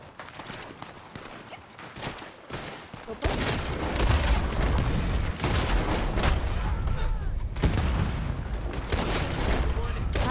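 Rapid bursts of gunfire in the video game Red Dead Redemption 2 crackle and boom, quieter at first and then a loud, sustained barrage of shots and blasts.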